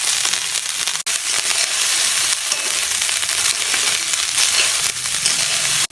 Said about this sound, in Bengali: রাইসগুলো কিন্তু এখানে 2 থেকে 3 মিনিট ভেজে নেওয়ার পর মোটামুটি ভাজা হয়ে গেছে।